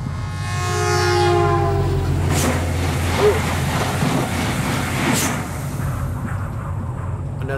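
A loud train in the video game Husk rumbles past with a horn blaring at the start, then heavy, rattling rail noise with sharp clanks that slowly fades.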